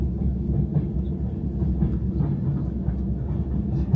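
A train running on rails, traveling between stations in Russia, a steady low rumble with a faint rhythmic clatter underneath, continuous and close, no speech.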